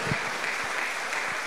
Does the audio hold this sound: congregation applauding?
yes